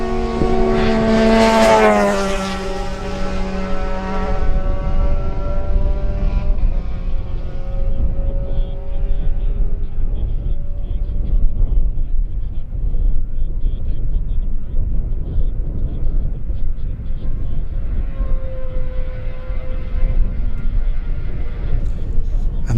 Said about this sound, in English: that was the Kawasaki of Andrew Cowie, number 66, and he was followed by the Honda, number 65 of Tom Snow.